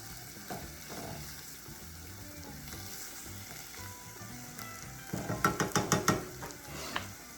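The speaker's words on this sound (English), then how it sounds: "we're gonna simmer them all the way down" Food sizzles and simmers in a pan at low level, with a run of quick metallic scrapes and clinks from stirring near the end, no voices.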